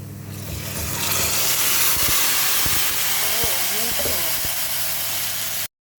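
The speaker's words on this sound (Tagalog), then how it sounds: "ilalagay na natin yung ating rice na hinugasan" Washed rice poured into browned sharia vermicelli in a hot pan for Arabic rice with shariya, giving a loud steady steam-like hiss and sizzle throughout, with a few knocks and a voice briefly talking over it.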